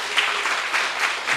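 A seminar audience in a church setting gives a brief burst of steady applause welcoming a married couple, dense and fairly loud throughout.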